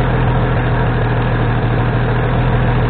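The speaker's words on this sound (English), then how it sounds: "idle around 800 RPM" GM inline six engine idling around 800 RPM, a steady, loud, close mechanical hum with an even low pulse throughout and no voices.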